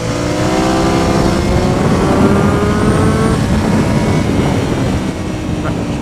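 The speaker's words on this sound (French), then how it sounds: "Belle accélération. Passe à 3." A 2003 Kawasaki Z1000 motorcycle pulls hard on a road trip, the engine note rising loud and close through the revs, shifting up a gear and climbing again, with wind roar throughout.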